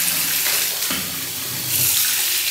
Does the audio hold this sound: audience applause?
no